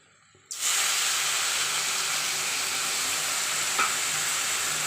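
Water is poured into hot melted sugar in a wok while making a winter date-jaggery halwa. After a brief quiet start comes an abrupt, loud, sustained hiss and sizzle of steam that stays strong to the end, with no talking.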